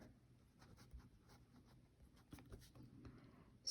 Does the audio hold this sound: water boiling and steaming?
no